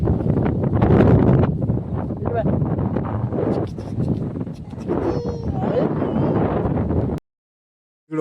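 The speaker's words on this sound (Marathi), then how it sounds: "वारा सुटलं थंड गार." Cold wind blows hard across an open rooftop terrace at sunset near windmills, a steady loud rushing buffet on the microphone for about seven seconds before it cuts out abruptly.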